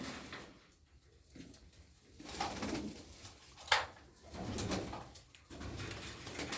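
Several healthy pigeons coo in uneven bursts, moderately close, with a brief sharp knock partway through and no talking.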